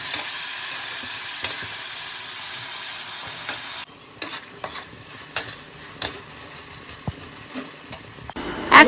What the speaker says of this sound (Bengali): কড়াইয়ে সাদা তেল দিয়ে দিচ্ছি, এর মধ্যে এখন দিয়ে দিব পেঁয়াজ কুচোনো, ভালো করে নেড়ে চেড়ে নিব, একটু লাল করে ভেজে নেব।